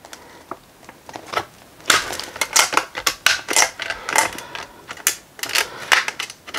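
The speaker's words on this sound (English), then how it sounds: "all we're going to do is cut off the excess." Sharp snipping cuts trimming excess material while building a rocket stove, a rapid irregular series of close crisp clicks and snaps with no talk.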